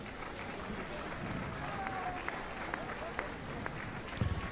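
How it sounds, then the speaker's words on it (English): An audience at a powerlifting national championship medal ceremony applauds in a dense, steady wash of clapping and crowd noise that holds for several seconds, with a few sharper claps and indistinct voices mixed in. "Give them another round of applause."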